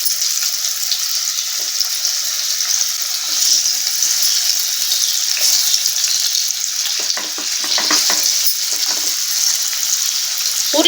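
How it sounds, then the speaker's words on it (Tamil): Raw, peeled, uncooked potato slices frying in hot oil give a continuous bright sizzle, close and steady, with a few louder crackling bursts and stirring noises near the end. "உருளைக்கிழங்கு இப்போ லேசாக ஃப்ரை ஆகட்டும்."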